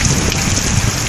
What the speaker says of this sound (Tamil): 1 மணி நேரத்திற்கு மேல் கனமழை பெய்தது